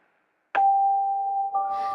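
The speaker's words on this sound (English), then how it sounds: "His phone suddenly rang." A phone rings abruptly after a moment of silence, one sustained electronic ringing tone that holds steady and then shifts pitch near the end, loud and alone.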